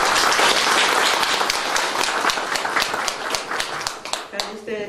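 An audience at a painting exhibition in Mangalia applauds steadily with dense, close clapping that thins out toward the end, alone without talk.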